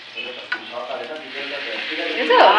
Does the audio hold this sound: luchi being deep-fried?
yes